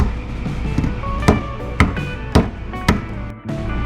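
Four sharp metallic hammer taps on a small metal plate on an old 6V sealed beam headlight bulb, evenly spaced about half a second apart, ringing over a steady background hum.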